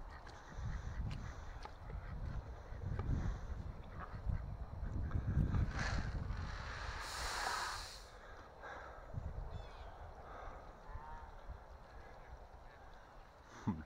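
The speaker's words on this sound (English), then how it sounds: "All you can hear is the ducks." Many ducks quacking at a farm lagoon in the morning, a dense continuous chorus of overlapping quacks and calls at moderate distance, fairly faint overall.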